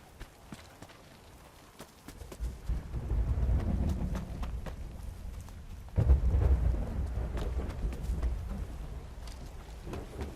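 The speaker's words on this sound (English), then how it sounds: "Wait out the bloody storm." Thunder rumbles through a stormy map in The Cycle: Frontier, starting low and distant, then swelling into a heavier roll with a sudden louder crack midway, over a steady wash of rain.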